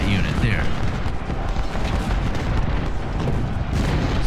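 Massed musket and artillery volleys in Ultimate General: Civil War during the Battle of Stones River, a dense continuous roar of rumbling fire that stays loud throughout, with a voice over it.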